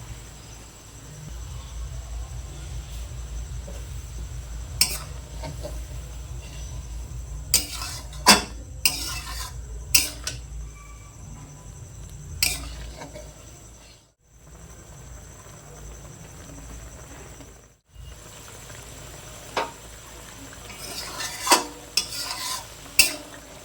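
Slit green chillies are added to a simmering prawn malai curry, with a spoon stirring and scraping against the pan in sharp clinks over a soft, steady bubbling sizzle.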